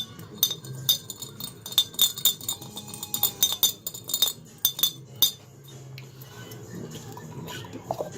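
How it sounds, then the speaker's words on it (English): A Damascus steel ring, made for a malachite inlay, is swirled in a bicarb solution inside a glass container, giving a quick run of bright, ringing clinks and ticks against the glass that later trail off into quieter rustling. "Drop it into the bicarb. Let's see, give it a good"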